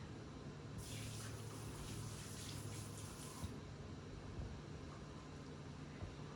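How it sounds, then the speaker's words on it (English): Hands being washed under a running kitchen tap while making pecan bread pudding, a soft, steady splash of water lasting a few seconds before it stops, fairly quiet, with no talking. "Wash my hands quick."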